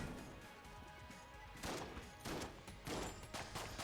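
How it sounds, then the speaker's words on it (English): The starting pistol in the Enter the Gungeon video game fires in a steady run of quick, crisp shots over a busy, fairly quiet game mix, with the bursts bunching into louder clusters toward the end. "Just using the base pistol."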